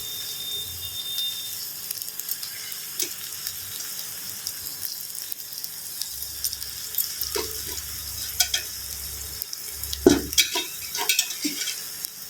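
Spoon scraping and stirring carrot and beans rice in a pot, soft intermittent mixing scrapes and clinks with a few louder knocks toward the end, quiet and close.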